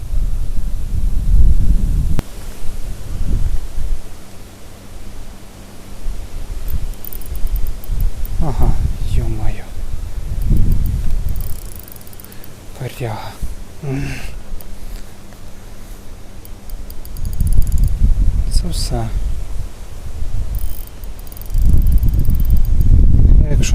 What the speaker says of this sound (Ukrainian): Такий вітер сьогодні просто зносить голову.